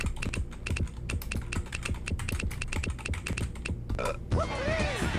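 Rapid, steady keystrokes clatter on a computer keyboard while an answer is typed into the You Don't Know Jack trivia game, followed near the end by a short swooping game sound effect.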